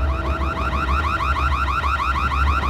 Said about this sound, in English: I've just set the alarm